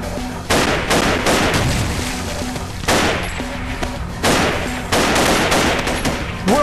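Repeated bursts of gunfire from the video game Paranoia, loud clustered volleys of shots with brief gaps between them, close and sharp.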